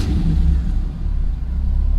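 An F-body car's engine rumbles loudly up close just after the key is turned, a steady low idle with a slight swell early on.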